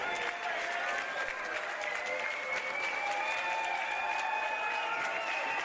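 A wrestling crowd at a tag team match breaks into steady, dense applause, with sustained clapping filling the arena for several seconds and faint voices underneath.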